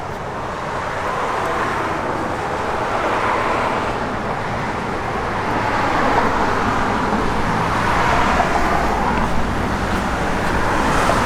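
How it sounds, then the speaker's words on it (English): A 1966 Chevrolet Nova SS with a 355 small-block V8 runs steadily, a continuous broad engine roar mixed with road noise that swells gently midway. "Good sounding Chevy small block."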